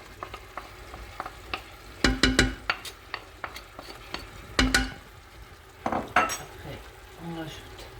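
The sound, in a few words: meat frying in a pan for tajine with prunes and almonds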